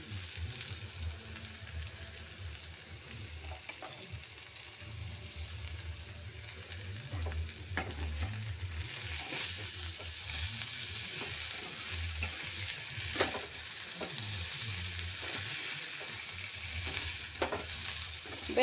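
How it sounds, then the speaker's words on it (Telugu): Okra fry (bendakaya fry) sizzles steadily in a pan, a constant soft crackle broken by occasional scrapes and clinks of stirring, with no talk. "బెండకాయ ఫ్రై రెడీ."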